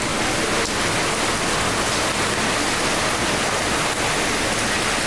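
Steady rain pours down without pause, a dense, even hiss that stays loud and close for the whole stretch, with no voices over it.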